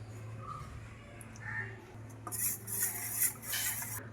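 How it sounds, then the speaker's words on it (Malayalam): A spoon clinks against a bowl while custard powder is stirred into milk, light scraping and a few brighter taps, close and fairly quiet, alone with faint room noise. "ഫസ്റ്റ് നമുക്ക് കസ്റ്റർഡ് പൗഡർ 2 ടീസ്പൂൺ ഇട്ട് ഇളക്കി വെക്കാം."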